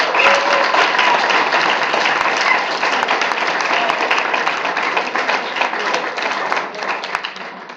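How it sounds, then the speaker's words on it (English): An audience gives a round of applause at a university theater event, loud, dense clapping sustained for the full length and easing slightly toward the end. "So anyway, give them a round of applause."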